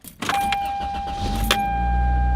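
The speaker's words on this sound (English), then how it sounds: "go inside the car and start her up" A car is started from inside the cabin: a few clicks and a brief crank, then the engine catches and settles into a steady low idle while a chime tone rings continuously.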